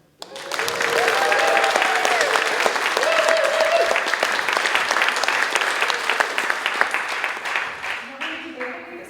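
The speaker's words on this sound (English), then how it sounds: "Can we have a big round of applause?" Wedding guests break into a big round of applause that swells quickly and holds as dense, steady clapping for several seconds, with a few voices and cheers on top, before tapering near the end.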